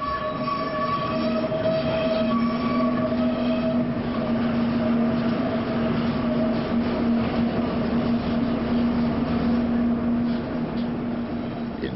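An ex-British Rail Class 08 pilot locomotive hauls wagons at a clay loading terminal near Goonbarrow Junction: a steady, loud diesel drone with rumbling rail noise and a long metallic wheel squeal running throughout, no talk.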